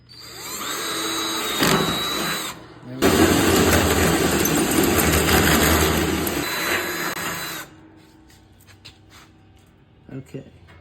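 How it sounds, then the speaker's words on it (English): A power drill pre-drills a small hole in a steel drum smoker, whining loudly in two close bursts with a brief pause between, then stopping, followed by faint handling clicks. "I'm going to pre-drill a smaller hole"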